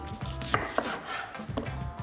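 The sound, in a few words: chopping onion finely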